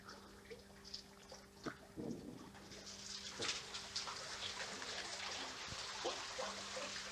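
Water trickling down a gorge into a rock pool waterfall, faint soft dribbling and splashes over a quiet steady hum, with scattered small drips and brief louder splashes.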